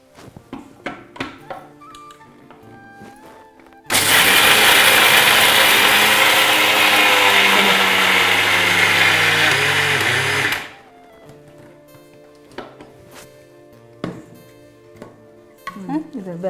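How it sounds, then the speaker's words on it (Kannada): A mixer grinder whirs dry ingredients into powder in a home kitchen, a loud, steady roar lasting about seven seconds. Clicks, handling sounds and speech come before and after it. "ಈಗ ಮಿಕ್ಸಿ ಮಾಡಿ ಮಿಕ್ಸಿ ಮಾಡ್ಕೊಳ್ಳ ಡ್ರೈ ಆಗಿ ಮಿಕ್ಸಿ ಮಾಡ್ಕೋಬೇಕಾ"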